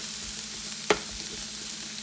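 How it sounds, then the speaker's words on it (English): Food sauteing in a pan on a hot stove before rice goes in, a steady soft sizzle with a single sharp clink of a utensil partway through. "we're going to keep sauteing this for just a couple more minutes"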